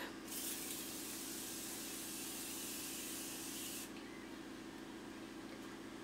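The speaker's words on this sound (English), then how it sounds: "The sprayer on this, I love it so much." Morphe setting spray mists onto a face in one long continuous hiss lasting a few seconds, close and soft, then cuts off abruptly into quiet room tone.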